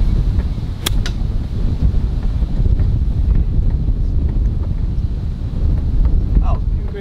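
Strong, intense wind buffets the microphone on an open golf course, a heavy low rumbling roar that gusts continuously throughout, with a couple of sharp knocks early on.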